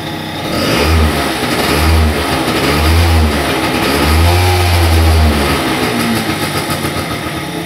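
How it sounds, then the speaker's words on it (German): Pegasus Sky 50 scooter with light accident damage, its small engine revved repeatedly in several close, loud bursts that rise and fall over a steady running idle. "Jetzt gebe ich mal ein bisschen Gas bei der Karre."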